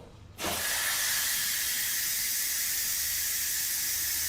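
A steady, loud hiss of steam rises from a pot of freshly cooked potatoes being drained for mash, starting abruptly and continuing unbroken at close range.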